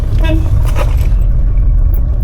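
Cabin sound from a 1979 Mercedes-Benz W123 on the road: a loud, continuous low rumble of engine and tyres, with a short burst of voices near the start.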